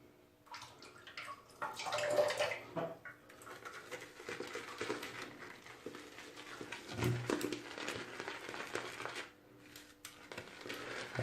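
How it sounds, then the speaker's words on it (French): Water added to shaving soap in a bowl, splashing and trickling close by in uneven bursts over several seconds, with no voices. "Ajouter un peu d'eau."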